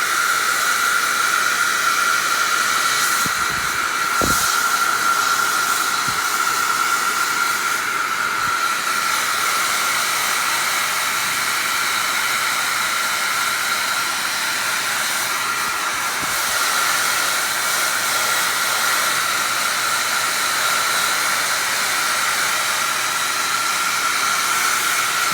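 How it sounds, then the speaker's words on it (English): A heat gun or hair dryer blows hot air over a Slickwraps matte skin on an iPhone 11 Pro Max, making a loud, continuous whooshing hiss with a steady whine and a few brief knocks. "I'm gonna heat this up now. So you're in for a little bit of sound here again."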